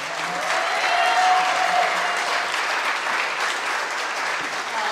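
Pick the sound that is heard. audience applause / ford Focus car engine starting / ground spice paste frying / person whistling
audience applause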